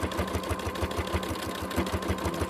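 Sewing machine stitching fabric during free motion quilting, a fast steady mechanical chatter with a low motor hum, close and continuous.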